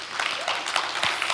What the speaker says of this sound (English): I just want us all to give a round of applause to Daniel and his team